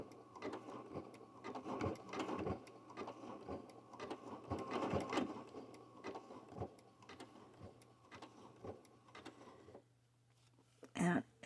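A sewing machine stitches a jelly roll rug in short, uneven bursts of rapid mechanical rattling at close range, stopping and starting under a quiet hum. Someone talks intermittently over the machine.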